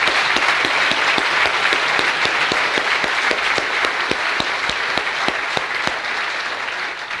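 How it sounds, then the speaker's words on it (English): Lively, sustained applause from a tech conference audience after a round of lightning talks, dense clapping from many hands with loud individual claps popping through. "So give all the speakers a second round of frenetic applause."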